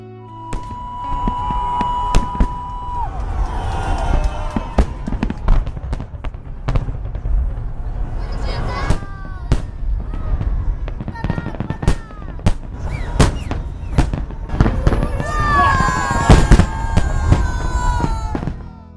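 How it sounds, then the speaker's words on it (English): Loud Victory Day fireworks over a river in Russia burst continuously, rapid crackling explosions and booms overlapping, with whistling rockets rising and a crowd murmuring underneath. "Today we are watching the fireworks"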